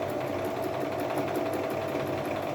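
A Singer Promise 1412 sewing machine stitches a step zigzag, a steady fast whirring hum with a rapid even needle clatter, close and continuous throughout.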